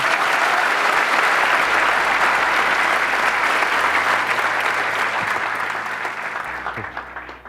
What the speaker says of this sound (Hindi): ताली किस लिए बजाई है?